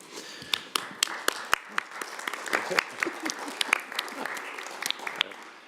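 Sparse applause from a small group at a council planning and transportation committee meeting, individual claps clearly separate at first, then thickening slightly before fading.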